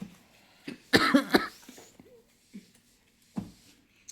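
A person coughs in a short burst of several harsh coughs, then gives a couple of quieter isolated coughs after pauses.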